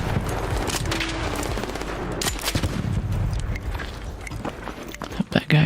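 Gunfire in the video game Arc Raiders, rapid bursts of automatic shots mixed with footsteps and game clatter, loud and dense, with a voice talking now and then over the action.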